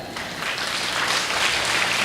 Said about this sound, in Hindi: इसका मतलब है ताली बजाना है।